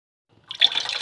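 After a brief silence, boiling hot syrup begins splashing and pouring over fruit, a short close burst of wet trickling and gurgling.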